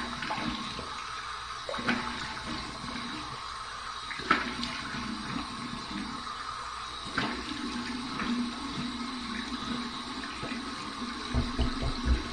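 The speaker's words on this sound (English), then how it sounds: "Here's my warm water rinse." Warm tap water runs steadily into a sink for a rinse after shaving with a Black Hawk SE razor, a continuous splashing flow with a few louder splashes.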